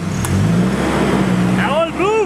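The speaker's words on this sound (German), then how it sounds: "Jetzt muss ich meinen Motor hören." An adventure-touring motorcycle engine, from a group riding Honda Africa Twins and a BMW F 650 on gravel tracks in Namibia's Kaokoveld, runs with a close, low throb and then revs, with voices rising over it near the end.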